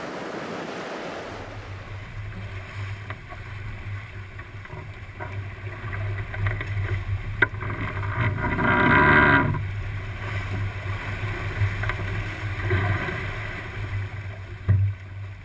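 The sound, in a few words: sailboat sailing on the open ocean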